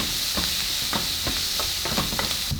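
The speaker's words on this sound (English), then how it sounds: "we're going to add our minced garlic. Cook it for about 30 seconds" Minced garlic sizzling with jalapeno in a hot pan, a steady frying hiss punctuated by short scraping stirs, close and moderately quiet with no talking.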